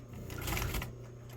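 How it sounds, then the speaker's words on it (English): A sewing machine running a steady straight stitch through denim jeans, a continuous close mechanical whir with a rapid needle rhythm, heard alone. "I like to do one pass on a straight stitch"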